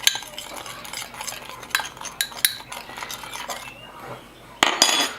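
Paprika and pepper seasoning mixed in a bowl with a metal utensil, rapid clinking and scraping strokes close up, irregular and fairly loud, with no voice.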